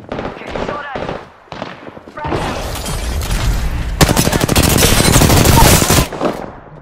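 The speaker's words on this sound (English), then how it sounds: "I am taking fire" Loud, sustained automatic gunfire from a battle in Apex Legends, with dense rapid bursts building from about two seconds in and peaking near the end, after a few short voice-like sounds.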